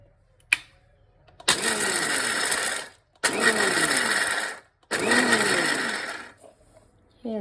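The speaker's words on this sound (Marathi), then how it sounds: "हे भाजलेले शेंगदाणे आपण मिक्सरवरनं कोर्स क्रश करून घेऊया" A kitchen mixer grinder coarsely crushes roasted, peeled peanuts in three loud whirring bursts of about one and a half seconds each, separated by short pauses, after a single click at the start.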